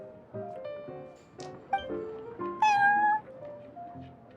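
Prince the cat in Genshin Impact's Cat's Tail gives a run of soft, close meows and chirps, ending in one longer, louder meow.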